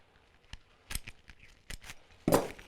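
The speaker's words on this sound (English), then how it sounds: "Some of this extra plastic you can snip off or just tear it out." Several short, crisp snips as scissors cut away extra plastic from a Ford Transit seat cover, irregular clicks close by with a louder final crunch, no talking.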